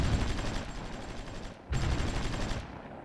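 Sustained rattling gunfire in a strategy war game set on the German–French front near the Maginot Line, loud and continuous, broken by one brief gap before resuming.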